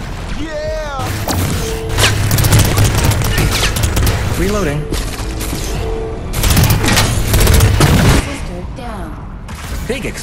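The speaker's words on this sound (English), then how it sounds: "Explosion." Loud explosions and heavy gunfire in the online shooter Lemnis Gate, with repeated blasts, rapid shots and mechanical clanks layered densely over several seconds.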